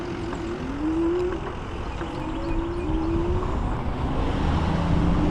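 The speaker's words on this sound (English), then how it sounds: "With cars doing 80 miles an hour going up and down this little 2-lane road" Cars speed past at around 80 mph on a narrow two-lane road near the Anclote coastal trail, a steady close roar of traffic with engines swelling and fading as each vehicle passes.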